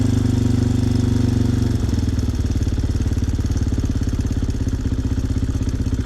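An old carbureted, air-cooled dirt bike engine idling high, loud and close, with a fast even putter that steps down slightly as the idle is lowered.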